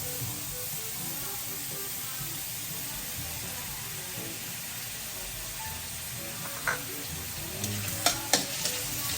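Food sizzles steadily in a little cooking oil in a pan, a constant crackling hiss, with a few sharper clinks of stirring near the end.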